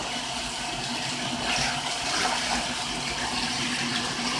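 A pet goose splashes in a bathtub full of water, a continuous, close, wet sloshing and spattering that swells slightly midway and runs without a break.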